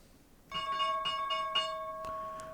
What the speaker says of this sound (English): There's the closing bell.